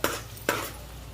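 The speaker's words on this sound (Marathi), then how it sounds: "आता अख्खा मसाला भाजून घ्यायचा आहे." Whole spices roast in a pan for chicken gravy, with two sharp scraping knocks of a spoon against the metal about half a second apart over a quiet, low background hiss.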